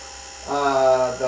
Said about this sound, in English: we're kicking the pump back on